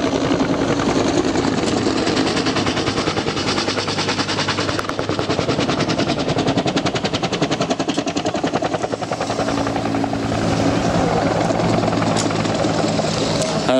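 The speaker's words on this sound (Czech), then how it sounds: "Helikoptér AH-1. Kobra rozhodně není běžným zjevem." A Bell AH-1 Cobra attack helicopter flies at an air show, its rotor chopping loud and continuous with a rapid pulsing beat that swells and fades slightly as it passes.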